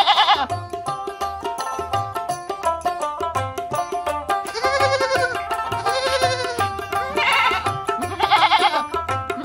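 A goat bleats repeatedly in quavering, nasal cries, set against a steady rhythmic backing with a regular low thump throughout.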